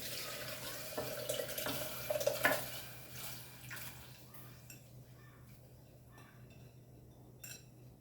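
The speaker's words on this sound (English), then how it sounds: "Now we'll add our dal along with the water, okay, to this." Dal and water poured into a cooking pot for restaurant-style dal fry, giving a brief splashing pour with a few clinks of metal utensils, then quieter faint kitchen sounds.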